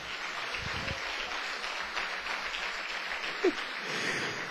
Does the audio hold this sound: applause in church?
yes